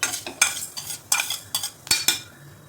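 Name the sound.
roasting fenugreek seeds in a spoon of oil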